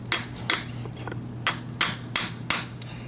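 A hammer driving a trailer hub seal into place: six sharp metallic strikes at a loose, uneven rhythm over about three seconds, close and clear with no talk.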